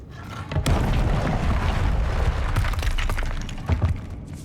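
A fire spell cast in the video game Hogwarts Legacy erupts in a loud, sustained fiery burst, roaring and crackling for several seconds, with sharp impacts near the start and end.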